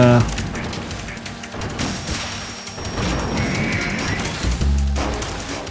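Gunfire in Metal Gear Solid 2: Sons of Liberty, a dense run of sharp shots and crashing impacts across the whole span over a steady game-music bed, fairly loud and close.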